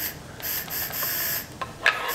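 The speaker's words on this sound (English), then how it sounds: "It's got an adjustable nozzle right on the tip here, so this can be open and closed." The adjustable nozzle tip on a new Solo sprayer is twisted open and closed, giving a few faint plastic clicks against a steady hiss, with one sharper click near the end.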